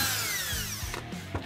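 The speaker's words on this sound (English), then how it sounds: "we'll drill all 3 of the holes that we marked to at least" A power drill bores a 9 mm hole through a plastic panel on a Polaris Ranger XP1000 UTV. A whining motor rises and falls through the cut, with short grinding bites as the bit pushes through.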